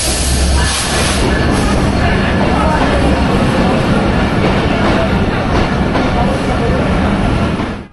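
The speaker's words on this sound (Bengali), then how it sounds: "এটিই হচ্ছে বরেন্দ্র এক্সপ্রেসের সাদা রেক নিয়ে প্রথম যাত্রা।" The Barendra Express, running with new white Inka coaches on the Chilahati to Rajshahi route, roars past in a loud, continuous rumble of wheels and wagons with steady rail clatter, close and sustained until it fades at the end.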